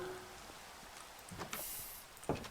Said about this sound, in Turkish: Hala ve hala yağmur yağmaya devam ediyor.